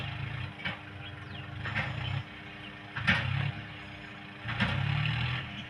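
A small tractor's engine strains in a wet farm field while it is stuck, revving in repeated bursts of a few seconds each with quieter idling between them.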